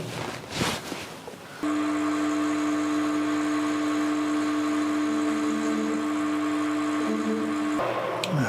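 A cutting tool chattering on a small-diameter workpiece: a steady, loud, high-pitched tonal whine with strong harmonic ringing that holds for about six seconds. It follows a short burst of rattling contact noise and then stops abruptly.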